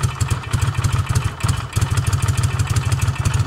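A Ducati Monster motorcycle engine idles steadily up close, a lumpy, even pulsing thump with mechanical clatter, running smoothly with no voices.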